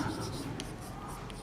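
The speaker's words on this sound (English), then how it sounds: "First let us write necessary part." Pen or chalk writing out a proof of a normal subgroup theorem in a lecture, a steady faint scratching with a few brief taps, close and quiet throughout.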